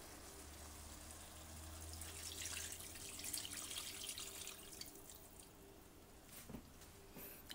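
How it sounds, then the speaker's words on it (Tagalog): Chicken broth pours into a cooking pot as a soft, continuous liquid splash with a few drips, faint and close. "Ngayon naman po ibubuhos ko na yung sabaw, yung pinagkuluan ko ng chicken natin"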